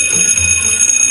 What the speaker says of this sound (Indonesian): Ya, bel masuk bunyinya.